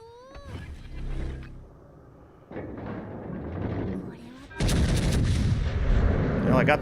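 Warship guns boom in World of Warships: Legends, a heavy blast rising at about 2.5 seconds and a louder, sustained barrage from 4.6 seconds, with game noise and a voice talking underneath.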